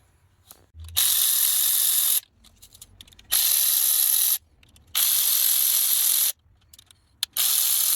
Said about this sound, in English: So they're 10 mils, 8 mils, and just loosen them all up and remove.